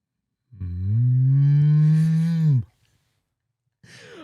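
A person imitates a Jersey cow with one long, loud, low moo lasting about two seconds. It swells, holds, then tails off, followed by near silence and a brief sound at the end.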